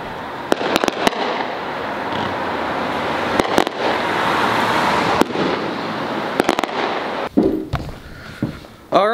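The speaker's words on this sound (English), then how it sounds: "I got fireworks in." Fireworks exploding outdoors: a series of sharp, loud bangs and crackles at irregular intervals over a continuous hiss, with brief voices near the end.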